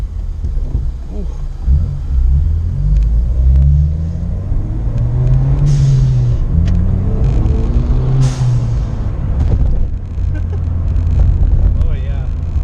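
A Ford Fiesta ST drives after a wheel alignment, its engine rumbling loud and steady from inside the cabin as someone talks over it.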